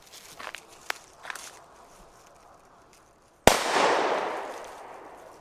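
A Fire Event Oldschool Böller firecracker goes off with one sharp, loud bang that echoes and fades outdoors, after a few faint footsteps and rustles.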